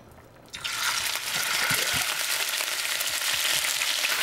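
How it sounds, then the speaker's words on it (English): Chunks of venison hit hot olive oil and burst into a loud, steady sizzle that carries on unbroken after a brief quiet start, close up with no voices. "we're just gonna saute that up in some olive oil till it's just lightly browned"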